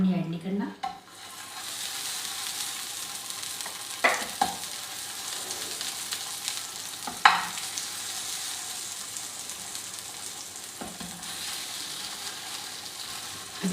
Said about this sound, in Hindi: थोड़ी सी ऑयल में हम इसको कबाबों को फ्राई करेंगे